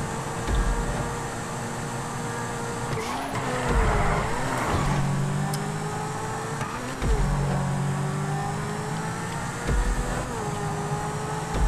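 Car engine in a GTA V Online race, a steady droning whine that dips and rises as the car shifts gears and corners, continuous throughout with small bumps and knocks.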